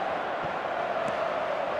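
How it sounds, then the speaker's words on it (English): A stadium crowd in the eFootball video game roars after a goal, a steady, dense wash of cheering held at a constant level throughout, with no voices standing out. "the crowd level has gone up a notch or 10"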